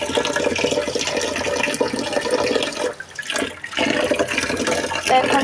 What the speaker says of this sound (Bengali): চালটাকে ভালো করে ধুয়ে নিব